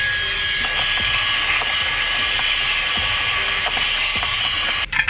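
A Fanttik Slim V8 Apex handheld car vacuum runs with a steady, loud high whir and faint mechanical ticking, holding an even drone throughout before a brief clatter at the end.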